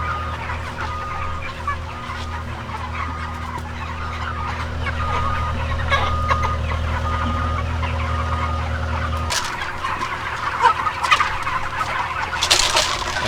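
Chickens and turkeys on a farm cluck and gobble continuously, a busy flock close by over a low mechanical hum that cuts out partway through.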